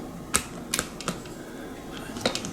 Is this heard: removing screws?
yes